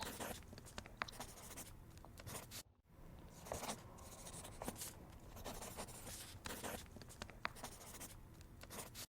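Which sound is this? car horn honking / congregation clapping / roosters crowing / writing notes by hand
writing notes by hand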